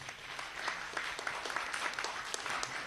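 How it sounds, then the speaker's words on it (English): Audience applause at a school speech and debate program, steady scattered clapping from a crowd held at an even level for a few seconds with no voices over it. "Big round of applause."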